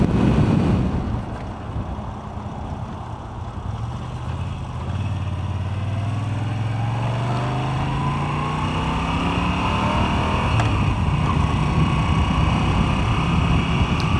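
A motorcycle cruises along a road toward Sundance Air Park, its engine droning steadily with a slowly rising and falling pitch beneath constant wind rush, no voices present.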